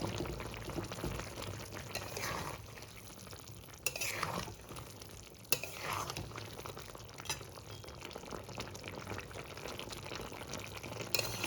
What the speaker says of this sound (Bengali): মাছগুলো ভালো করে সবজির সাথে মিশিয়ে দেবো।